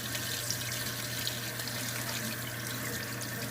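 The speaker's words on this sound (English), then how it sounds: "I've rinsed out till the water is pretty much clear" Water runs steadily from a tap over tie-dyed fabric being rinsed in a sink, a constant close splashing rush without pause.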